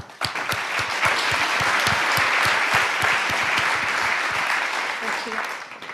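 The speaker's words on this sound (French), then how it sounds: "On peut l'applaudir." Audience applause at an annual ceremony as a guest speaker is welcomed onstage, dense steady clapping rising quickly and holding before tapering off near the end.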